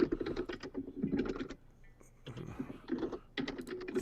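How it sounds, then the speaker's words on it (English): Loud, close computer keyboard typing clatters in fast bursts of clicks, pausing briefly midway before resuming, with no talking over it. "Someone's typing is very loud."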